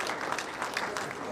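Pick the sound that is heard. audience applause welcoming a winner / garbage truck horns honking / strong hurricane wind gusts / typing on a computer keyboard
audience applause welcoming a winner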